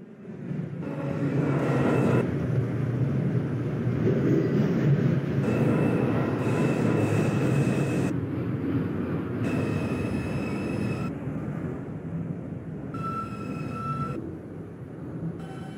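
A New York City Transit R142 subway train on the 5 line rolls along the track with a steady, loud rumble, clattering wheels and recurring squeals, heard from inside the car without any talk.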